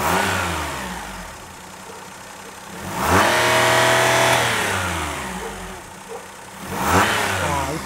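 A Perodua Kelisa car engine with a jerking, stumbling fault revs up twice from a steady idle, rising loudly and falling back between the bursts, heard up close.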